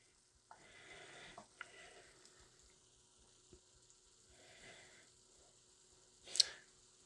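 Onions and sage sizzle in a frying pan for shrimp scampi, with soft intermittent frying hiss and occasional scrapes and clicks of stirring, fairly quiet, plus a brief sharper sizzle burst near the end.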